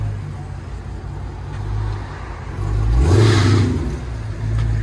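A 2013 Dodge Challenger SRT8 with a 6.4L HEMI V8 and Dynomax dual exhaust idles with a deep rumble, then blips into a loud, close rev that swells and falls back to idle.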